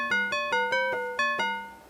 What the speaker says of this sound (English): you can easily create bells